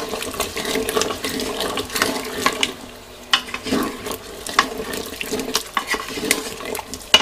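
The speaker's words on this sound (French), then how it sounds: "je vais ajouter l'eau, donc il y a 250 ml d'eau et le cube de bouillon" Water poured into a saucepan with a stock cube and stirred, with splashing, scraping and clinking of a utensil against the pan, close and steady with brief pauses.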